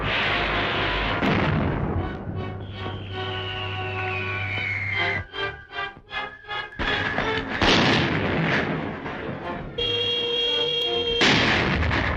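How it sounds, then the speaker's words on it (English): Bombs strike a temple in an old adventure film about a hidden underwater empire, making heavy booming blasts and rumbling explosions under a sustained dramatic soundtrack over about twelve seconds. "Bombing the temple."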